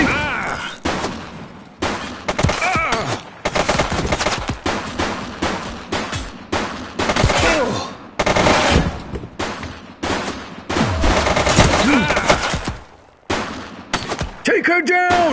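A suspect fires repeated gunshots in The Precinct police video game, dense bursts of loud shots with short pauses between volleys, and voices speak over the gunfire.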